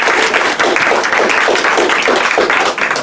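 An audience applauds steadily and loudly at a political speech, dense clapping filling the whole moment with a brief dip partway through.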